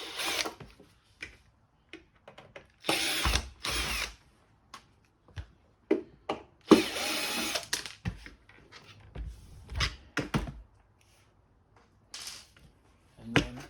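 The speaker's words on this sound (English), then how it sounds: "there's a screw here which you need to undo because it's attached to this" A power screwdriver undoing screws on an LG tumble dryer, short close whirring bursts separated by pauses, with some quieter clicks and handling noises between runs.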